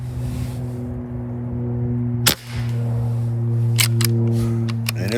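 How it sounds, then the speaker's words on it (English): A Hatsan Vectis air rifle fitted with a Huma regulator fires once, a single sharp crack midway over a steady background hum, followed by a few faint clicks. "I think this is the last shot."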